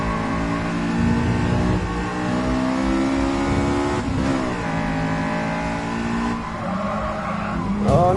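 Race cars in the video game GT Sport, including a Supra and an S2000, roar continuously with revving engines rising and falling through gear changes, tire squeal and skidding, loud and close with no talk.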